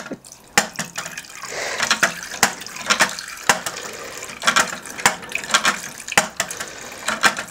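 Tap water poured from a bottle into a homemade water clock, splashing and trickling steadily at close range with repeated small drips and splashes and no talking.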